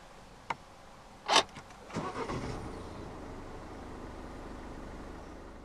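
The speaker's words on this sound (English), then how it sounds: "So to start, insert the key fob into the slot right here, put your foot in the clutch, and press the start button above the key slot." A 2018 Citroën Grand C4 Picasso with the 1.6 BlueHDi diesel starts up: a short click, a brief whirring crank burst, then a steady low idle settling in, recorded close and alone without talk.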